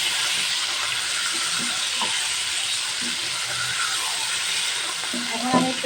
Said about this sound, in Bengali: আমার চিকেনটা ভাজা হয়ে গেছে। এখন আমি আদা রসুনের পেস্টটা দিয়ে দিচ্ছি।